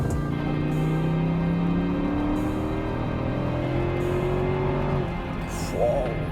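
A Mercedes C63 AMG W204 V8 revs hard, its pitch climbing in repeated rising sweeps, close and loud, before the engine note falls away near the end; the car is on a wet track.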